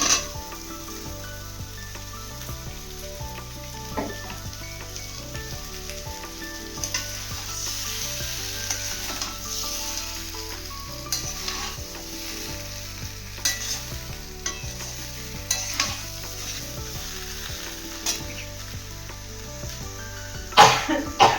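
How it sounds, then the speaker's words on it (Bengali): Potatoes and onions fry in a pan and are stirred for egg do pyaza. A steady, close sizzle runs throughout, broken by repeated scraping stirs and occasional louder clatters. "আলু ভাজা, পেঁয়াজ ভাজা এগুলো দিয়ে দিচ্ছি।"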